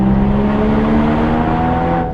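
A loud Porsche Boxster Spyder engine drones at a steady pitch on a mountain pass, full and resonant with a reverberant tail echoing off the rocks, holding its note throughout.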